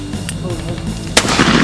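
During an outdoor turkey hunt a single loud gunshot booms near the end, preceded by a steady low rumble of background noise.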